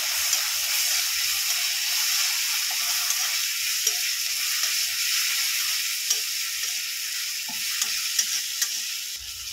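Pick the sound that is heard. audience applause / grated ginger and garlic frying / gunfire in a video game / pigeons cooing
grated ginger and garlic frying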